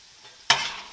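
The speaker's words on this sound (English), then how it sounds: "Mix that all up." Chopped onion and tomato stirred together in a pan, a quiet start followed by a sudden loud scraping rustle with a light sizzle that trails off, no talking.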